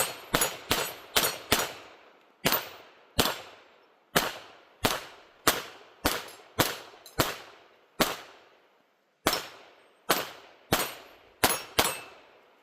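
Sharp, close shots from a Taurus TX22 .22 pistol, about twenty cracks fired in quick runs with short pauses, each snapping loudly and ringing off briefly.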